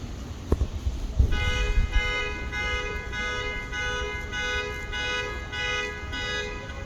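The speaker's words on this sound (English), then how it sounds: "I think a bus is coming." A bus approaching on a city street: traffic noise builds after a few low thuds, then a steady tonal drone with a pulsing, alarm-like pattern holds close and loud for several seconds.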